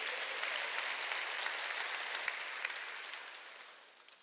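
Church congregation clapping during a Sunday worship sermon, a faint, steady wash of many hands that fades out toward the end.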